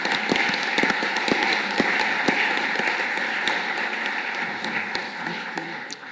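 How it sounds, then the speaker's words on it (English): An audience at a college membership ceremony gives a round of applause for new members, sustained clapping at moderate volume with sharp individual claps standing out, gradually thinning toward the end. "So a round of applause for all our new members."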